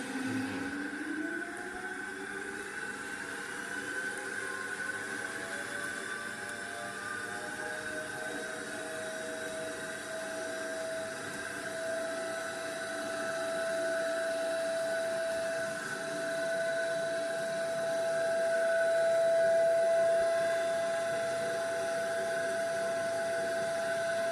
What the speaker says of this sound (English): Now you run the DC shunt motor to above rated speed, again 2600 up.